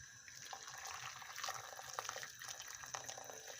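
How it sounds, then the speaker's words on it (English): Hot water pouring into the pot of a slow cooker with chicken meat for soup, a steady broadband splashing stream that runs continuously at moderate level throughout. "I will incorporate water,"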